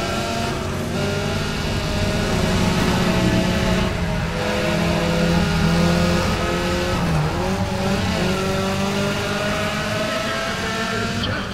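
Race cars in the video game Need for Speed: ProStreet at Portland International Raceway roar in a steady, loud engine drone with shifting revs and a brief squeal near the middle, under faint talk.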